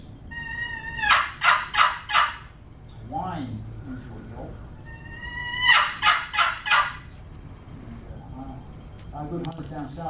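A turkey call is worked in two bursts of high whining notes, each run into a short series of yelps, with a person talking faintly between and after the calls.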